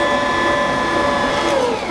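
An electric mixer with a beater whirs steadily, mixing spiced molasses cookie dough; a continuous loud motor hum with a slight pitch drift, and no talking.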